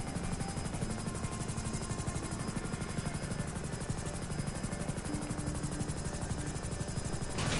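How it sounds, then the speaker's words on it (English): A helicopter in GTA 5 keeps up a steady, dense rotor chop and engine roar through the whole stretch, loud and close with no pauses. "As long as you know how to fly a helicopter straight and all that"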